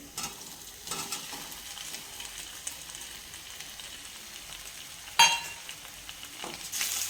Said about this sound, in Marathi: तर मी जो आपण बटाटा चिरून घेतला होता शिजून, तो मी घालून घेते त्यामध्ये.